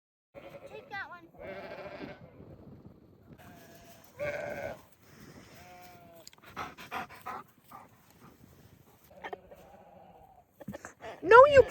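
Sheep on a farm bleating in spring, several short calls scattered across the clip at close range, mixed with a dog panting and people talking nearby.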